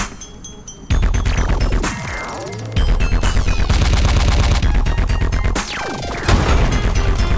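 Automatic gunfire in Call of Duty: Advanced Warfare during a team deathmatch on the Sideshow map, with rapid loud bursts of shots, crashing impacts and sweeping game effects close up, alongside background music.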